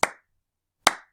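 Two sharp hand claps about 0.85 seconds apart, close and crisp, each ringing briefly in a room, with silence between them during a ragtime rhythm lesson.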